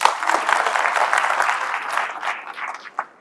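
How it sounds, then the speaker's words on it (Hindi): Audience applause in a medical lecture hall, a burst of clapping that rises briefly and then thins and tapers off into scattered claps near the end. "ताली बजाओ इस बात के लिए"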